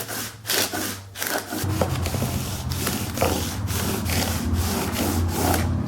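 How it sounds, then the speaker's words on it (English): Guitar frets sanded lengthways with 400 grit sandpaper, giving rapid rhythmic back-and-forth scratchy strokes, close and steady, starting with a few separate rubs before settling into continuous sanding. "I thought I'd try some sandpaper. I've got 400 on here."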